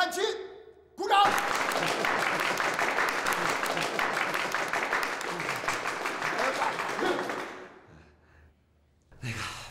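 Soldiers in an army company barracks break into loud, dense clapping that starts abruptly and fades out, welcoming Xu Sanduo's elderly father on a visit, with brief speech before and after.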